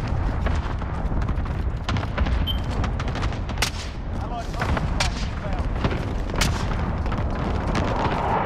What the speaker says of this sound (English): I threw my nade.